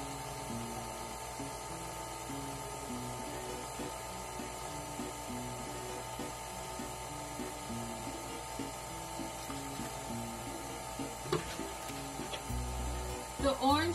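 An electric mixer beats a butter mixture for pan de muerto dough, giving a steady close whirring motor hum. A few clunks and clatters come near the end.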